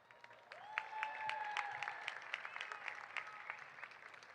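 Audience at a 2025 university commencement ceremony for a college of business and economics, clapping steadily with scattered whistles and cheers, a sustained moderately loud wash of applause.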